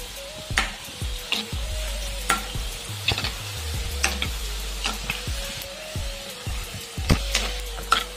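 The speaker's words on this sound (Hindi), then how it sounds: "पकौड़ियों को तेल में हिलाते रहना है" Moong dal pakoras fry steadily in hot oil in a kadhai while a ladle stirs them, with repeated scraping and clinking strokes over a constant close sizzle, and no voices.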